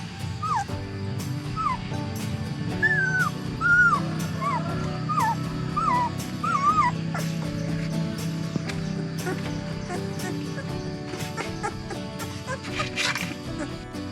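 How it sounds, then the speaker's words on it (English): Tiny puppies give repeated high whimpers and short yips close by, heard outdoors in rural Bolivia. Faint clucking from chickens and background rustle run underneath the cries. "some tiny puppies."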